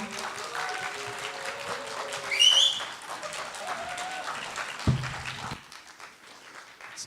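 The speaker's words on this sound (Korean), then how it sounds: "여러분 따뜻한 박수로 맞아주시기 바랍니다." Applause from a conference audience rises and continues steadily at moderate volume, with some background chatter and a brief low thump near the end.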